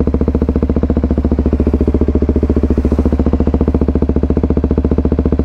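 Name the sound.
Kawasaki Ninja 250 single-cylinder motorcycle idling, Bram exhaust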